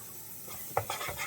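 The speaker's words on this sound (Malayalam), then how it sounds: "അതിലേക്ക് നമ്മൾ അരച്ച് വെച്ചിട്ടുള്ള ആ ഗ്രേവി ചേർത്ത് കൊടുക്കാം" Ground gravy for a rajma curry goes into hot oil partway through, bursting into a short, close sizzle with scraping stirs after a quiet opening, with no talking.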